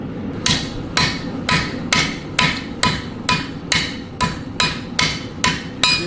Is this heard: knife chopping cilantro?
no